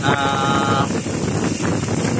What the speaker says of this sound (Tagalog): Tapos ngayon lumakas na naman yung hangin.